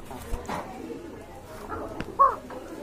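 A pigeon being shown for sale gives a short, faint coo near the end, heard close by amid quiet background noise and people talking.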